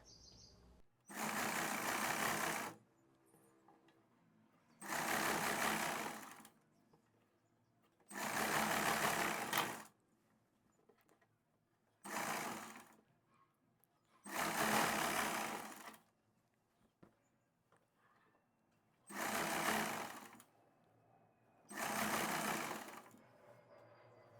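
A sewing machine stitches pant side seams in seven separate bursts of about a second or two each, with quiet pauses between runs, fairly close and alone without talk.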